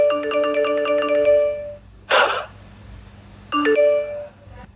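Social media notification chimes: bright, bell-like repeated tones play loudly, a brief whooshing swipe follows, then another burst of chimes, with no voices.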